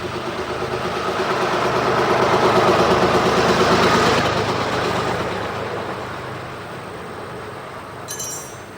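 A car engine idles steadily, a low continuous rumble that holds throughout at moderate loudness, swelling slightly in the middle and easing toward the end, with a brief higher rattle near the close.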